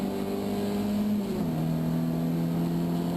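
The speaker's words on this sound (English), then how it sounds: "That is a gorgeous cacophony of pure music, the 924 engine" Porsche 924 race car engine at Donington Park, a continuous loud droning note that dips in pitch partway through as the car shifts and keeps pulling, steady and close with no talk.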